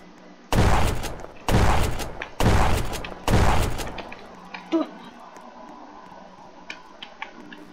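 Gunfire in the Roblox game Prison Life: four loud, rapid bursts of shots in quick succession, each a dense crackling volley, followed by fainter scattered pops and game noise; no clear talk.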